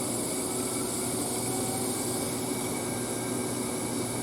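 Metallographic grinding machine running at 200 RPM, a steady, continuous whirring hum with broadband hiss that stays even and fairly loud throughout, with no talking.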